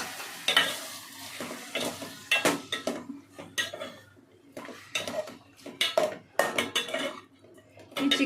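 A spoon stirs 250 grams of fresh chicken into a sizzling tempering in a pan for a home chicken curry, giving loud, repeated metallic scrapes and clanks over a constant frying sizzle.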